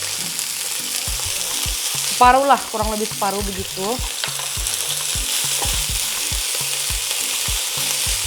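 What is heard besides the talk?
wild onion leaves frying in a pan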